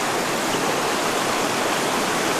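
A hiker wades through a mountain stream with slippery moss underfoot, on the Caldwell Fork Loop day hike. Steady, dense rushing water fills the whole stretch, loud and close, with no distinct splashes from individual steps.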